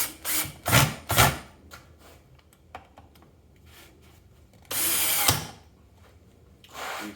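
Bursts from a power drill driving Torx screws into pre-drilled holes in a wooden double dog dish holder: two quick whirs near the start and a longer, louder run around the middle, with a shorter burst at the end.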